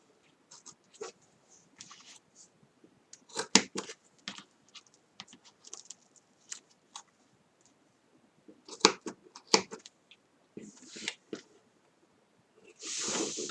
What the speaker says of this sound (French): Là, je le coupe droit.